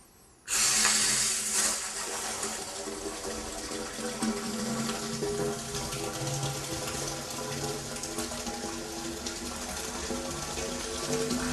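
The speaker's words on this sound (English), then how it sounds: "now let's put some water in here, and you watch and see what's coming through" Water rushes into a pressure sensor test rig, starting abruptly after a moment of near silence and then continuing as a loud, steady gushing flow with faint mechanical tones.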